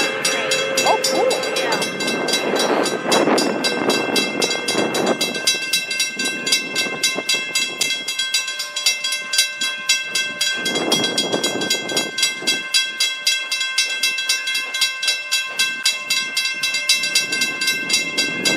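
Pere Marquette 1225 steam locomotive hauling the North Pole Express near Owosso, passing close and loud with horn or whistle blasts, then a long rhythmic clickety-clack of railcars rolling by.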